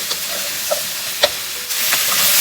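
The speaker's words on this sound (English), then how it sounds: "So I'm just going to saute it for 2 minutes." Beef and pepper sizzling in a hot pan with a teaspoon of olive oil, a steady close frying hiss broken by a few sharp clicks and scrapes as the stir fry is tossed.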